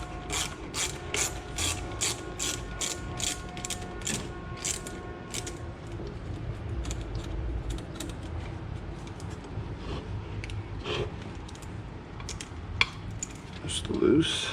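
A hand ratchet loosens bolts while a turbo is removed from a Nissan 370Z, giving a fast, even run of close mechanical clicks for several seconds, then slower clicking and light metallic clinks.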